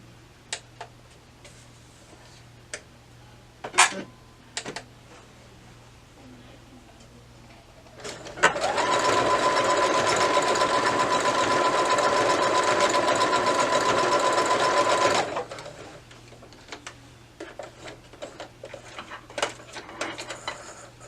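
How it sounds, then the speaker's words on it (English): Domestic sewing machine zigzag-stitching elastic back and forth, running steadily and close for about seven seconds mid-clip, bracketed by sparse clicks and taps of handling before and after. "I'm going to sew, going back and forth a few times just to make sure my elastic is secure"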